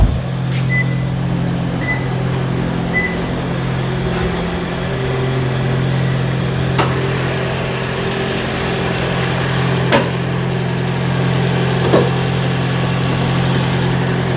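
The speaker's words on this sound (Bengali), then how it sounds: "ইঞ্জিন স্টার্টে আছে? ইঞ্জিন স্টার্টে আছে। এখন ইঞ্জিন আপনার ইঞ্জিনে চলতেছে।" A Toyota Alphard Hybrid with a 2500cc engine idles steadily, a constant low hum and drone heard close, with a few faint clicks and ticks over the even rumble.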